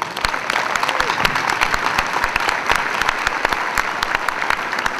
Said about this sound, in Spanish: para quien pido un gran aplauso